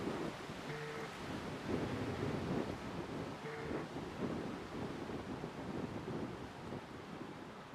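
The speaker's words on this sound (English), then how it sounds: "Very, very blowy up there now." Strong gusting wind at Manchester Airport roars steadily into the microphone as a loud, continuous rumble with no pauses, and faint tonal hums from airport machinery sit under the buffeting.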